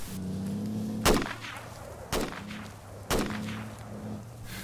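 Gunfire in a video game, three sharp, evenly spaced shots about a second apart, each ringing out with a short echo over a steady low hum of game background.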